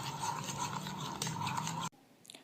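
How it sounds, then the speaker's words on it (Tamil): Slime made from glue and borax is stirred and scraped in a bowl, giving a soft, steady rubbing and swishing sound for about two seconds before it stops abruptly. "அதுலேயுமே இந்த பொராக்ஸை கொஞ்சம் கொஞ்சமாக சேர்த்து நான் மிக்ஸ் பண்ணிகிட்ருக்கேன்"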